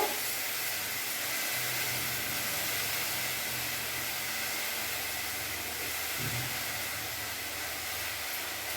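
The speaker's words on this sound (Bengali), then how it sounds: "এবার ভালো করে আমি ভেজে নেব।" Turmeric and Kashmiri chilli powder fry in a hot pan as part of a potol korma, giving a steady, even hiss and sizzle that holds at a moderate level from start to finish with no voices.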